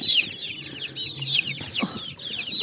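Several young chicks cluck and chirp close by in an irregular, busy chatter, with soft rustling underneath.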